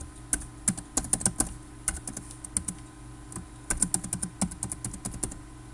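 Computer keyboard typing as an administrator username and password are entered, two quick bursts of close, crisp keystrokes separated by a short pause.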